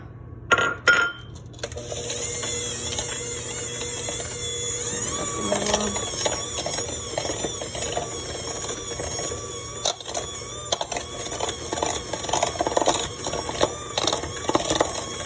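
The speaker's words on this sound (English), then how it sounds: "we are going to add the egg in and then mix it up" Electric mixer whirring steadily through chocolate chip cookie dough after an egg is added, with a continuous motor hum and faint clinking against the bowl throughout.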